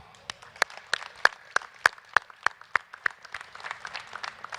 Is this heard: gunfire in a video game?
no